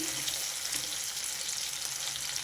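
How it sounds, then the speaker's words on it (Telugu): Bitter gourd pieces frying in a pan for a spicy Telugu karam, giving a steady, dense sizzle with crackling throughout, close and continuous with no voices. "ఇది కొంచెం రెడ్గా వేగాలి బాగా వేగనిద్దామండి"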